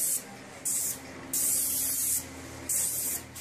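A spray gun applies a second coat of dark espresso-colored finish in repeated hissing bursts, about four or five of them, each lasting under a second, over a low steady background of machinery hum.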